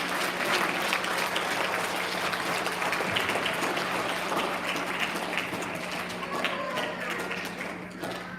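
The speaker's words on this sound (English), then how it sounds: "big round of applause for our transportation award" Applause fills a room at an elementary school student recognition ceremony, steady clapping for a transportation award winner with a faint electrical hum beneath, slowly thinning toward the end.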